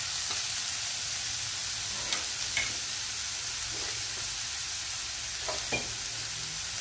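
Bottle gourd frying in a pan on a high flame, a steady close hiss of sizzling with a few soft scrapes and clinks of stirring.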